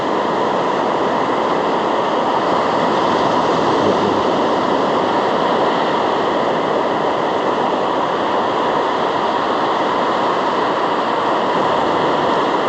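Ocean waves breaking on a beach during shore fishing, a continuous loud broadband wash of surf that holds steady without pause, with no voices over it.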